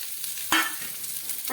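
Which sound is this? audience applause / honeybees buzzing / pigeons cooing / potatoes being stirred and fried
potatoes being stirred and fried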